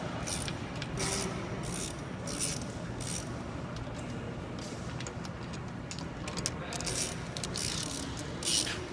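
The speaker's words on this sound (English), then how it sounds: "take these bolts out for this plate" A socket wrench turns out bolts from a plate on a heavy duty transmission, making repeated ratcheting clicks in bursts with faint metallic handling noises close by.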